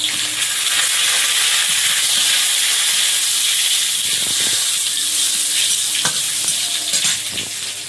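Panch phoron spices and a bay leaf sizzle and spit in hot oil in a home kitchen, a loud, steady frying hiss running throughout with no talking.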